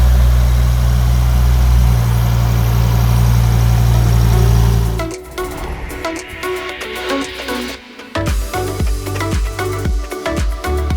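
A steady, deep idle from a 2.5-litre Volvo five-cylinder engine in a Ford Focus rumbles loudly for about five seconds, then drops away into quieter mechanical noise and clicks.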